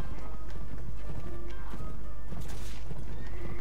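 A horse gallops with rapid hoof beats and whinnies amid battle noise in the video game Mount and Blade: Warband, continuous and fairly close.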